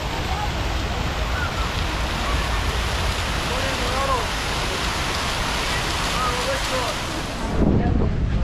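Water flowing in front of an old castle in Milan, Italy, a steady broadband rush mixed with wind buffeting the microphone, faint voices in the background and a louder gust at the end.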